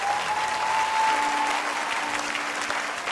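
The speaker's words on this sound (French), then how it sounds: "On peut acclamer pour elle." A church congregation applauds and cheers, dense clapping filling the room steadily at close range, with a brief sustained vocal tone near the start.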